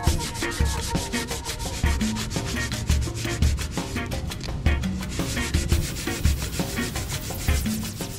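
Fiberglass windvane sleeves are sanded by hand on a beach, with loud, close, rhythmic rasping strokes repeating at a brisk steady pace and no voices.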